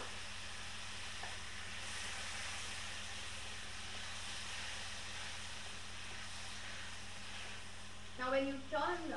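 Tomatoes fry in a hot pan with ginger and garlic for Indian ground meat kheema, a faint, steady sizzle hissing continuously, with a brief stirring clatter near the end.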